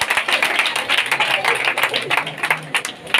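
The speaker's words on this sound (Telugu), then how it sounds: "గట్టిగా చప్పట్లతో తండ్రి గారికి వందనాలు తెలియజేస్తాం" A church gathering gives the priest a round of applause: many hands clap in dense, uneven bursts for about three seconds, with voices mixed in beneath.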